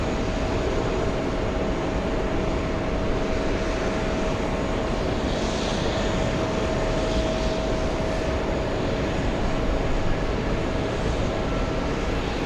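An Air Europa airliner at JFK airport produces a steady, broad jet engine roar, loud and constant for the whole stretch without clear rise or fade, and with no voices over it.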